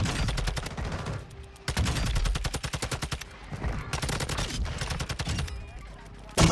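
An MP7 submachine gun in a video game fires in rapid automatic bursts, three long strings of sharp close shots separated by short pauses.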